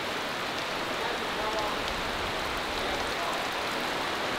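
Heavy summer downpour at an outdoor motocross camp, a dense, steady roar of rain hissing on surfaces without pause, close and constant.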